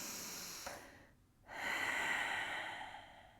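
Audible breathing during a perineum exercise class: a long exhale, a brief pause, then a steady drawn breath, close and soft, with no talking.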